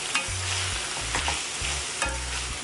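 Ackee and saltfish are stirred together in a frying pan: rhythmic spoon scrapes and low clunks of the pan repeat over a steady, close sizzle.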